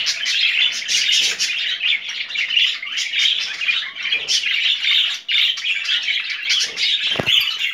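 Several budgerigars paired in a breeding cage chirp and chatter continuously, close and lively, with overlapping high tweets and occasional squawks and wing flutters.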